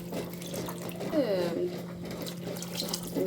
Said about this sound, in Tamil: இப்போ கரைச்சி வச்சா புளி தண்ணியை தேவையான அளவு ஊற்றிப்போம்